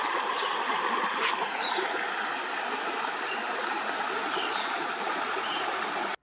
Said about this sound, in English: The creek flowing over the rocks is very peaceful.